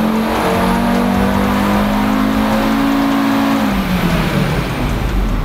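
Audi RS3 with a JB4 tune revving hard on a dyno, a loud, sustained engine roar with a rising then falling harmonic whine, close and continuous for several seconds.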